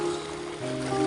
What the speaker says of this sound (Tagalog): At tinig ng dagat,